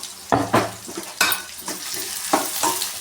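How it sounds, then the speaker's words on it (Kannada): Garlic goes into a pan of chopped onion frying for khichdi, with a loud close sizzle broken by several sharp stirring scrapes and clanks against the pan. "ಬೆಳ್ಳುಳ್ಳಿ ಹಾಕೋತಾ ಇದ್ದೀನಿ."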